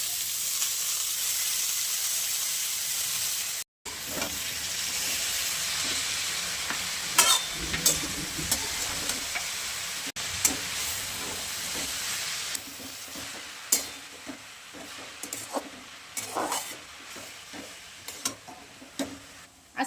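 Safflower greens stir-fried in oil with chilli, garlic and dal, a steady close sizzle and frying hiss running throughout with a short break early on, punctuated by scattered clicks and scrapes of stirring.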